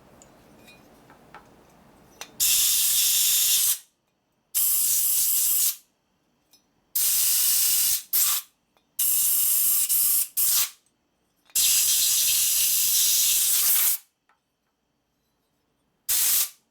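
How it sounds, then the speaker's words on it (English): A compressed air blowing nozzle blasts into a passage of an old Linkert M35 carburetor from a Harley, several loud close hissing bursts of a few seconds each, separated by short silences. "Blow it out with a blowing nozzle."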